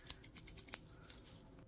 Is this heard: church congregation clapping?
no